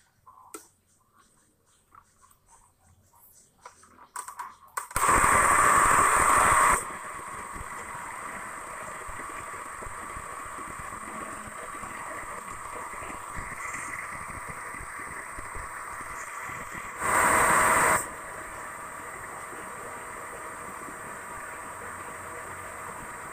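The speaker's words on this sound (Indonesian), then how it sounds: "Kita blender sampai halus." A blender blending a strawberry milk smoothie with ice whirs on loudly in a short burst, then a steady lower motor hum runs on, with another brief loud pulse later.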